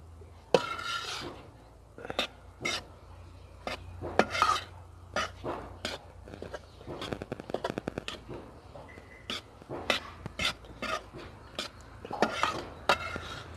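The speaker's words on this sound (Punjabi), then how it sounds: "ਇਹ ਜਿਹੜਾ ਨਾਰੀਅਲ ਦਾ ਬੂਰਾ ਆਪਾਂ ਉਹ ਵੀ ਪਾ ਲੈਂਦੇ ਹਾਂ ਅਤੇ ਇਹਨੂੰ ਹਿਲਾ ਲੈਂਦੇ" Coconut powder being stirred into a pan mixture for alsi pinnis, heard as intermittent scraping and clinking strokes of a spoon against the pan, fairly faint and irregular, with no talk.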